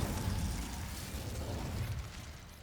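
The Confringo explosive spell in the Hogwarts Legacy video game, heard as a continuous loud crackling, roaring burst that holds steady for over two seconds before slowly easing off.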